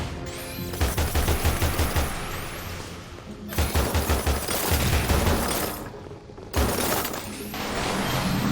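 Rapid bursts of ice bullets fired in Little Witch Nobeta, a spooky-castle video game, come in dense repeated volleys with brief lulls between them, loud and close over a constant game soundtrack.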